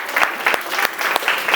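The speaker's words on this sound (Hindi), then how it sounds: "ताली बजाएं इनके लिए" An audience claps loudly and continuously at a business-ideas event, a dense wash of hands with slight pulsing swells and no voices.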